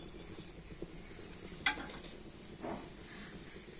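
Grated coconut is stirred in a hot wok on the stove, producing a soft steady sizzle with light scraping, one sharp metallic clink early on and a faint scrape later; no one speaks.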